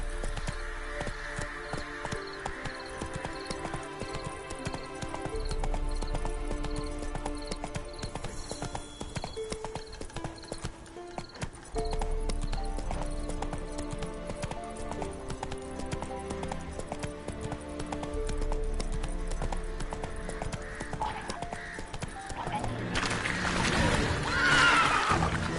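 In the video game Witcher 3, the horse Roach clip-clops with steady rhythmic hoofbeats under a layer of game music and ambience, ending in a louder burst of noise.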